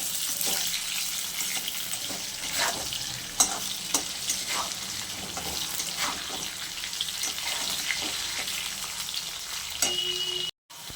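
Potatoes fry with salt in a pan, a continuous close sizzle broken by frequent scraping stirs of the spatula, with no one speaking.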